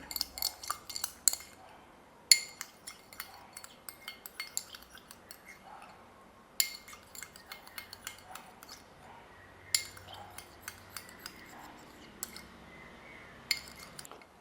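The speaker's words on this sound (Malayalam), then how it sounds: "ഇനി നന്നായിട്ട് നമുക്കതൊന്ന് മിക്സ് ചെയ്യണം" A curd face pack being mixed with a spoon in a bowl, giving repeated bright clinks and scrapes in irregular bursts, close by, with faint background quiet between strokes.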